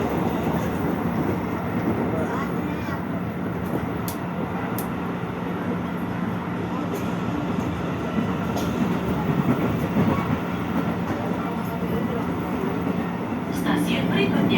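A commuter train rolls through the Bogor area toward a station, with a steady loud rumble and faint rail clicks throughout and a few brief sharp squeaks, no clear talk.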